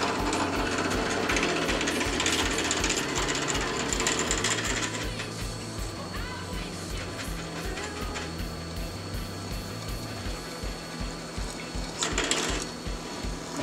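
A drill press runs with a coolant pump circulating fluid, giving a steady mechanical whir with rhythmic clattering and hum, loud and continuous throughout with a brief louder burst near the end.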